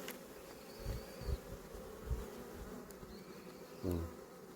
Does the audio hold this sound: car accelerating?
no